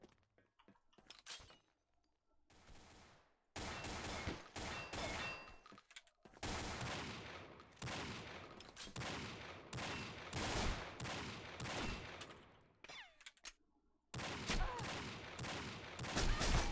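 Desert Eagle pistol fire in the video game Combat Arms: loud sharp shots in rapid bursts through most of the stretch, broken by short quiet gaps.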